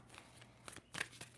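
Tarot cards being shuffled by hand, quiet soft flicks and slides in a few short bursts, close but faint, with no voices.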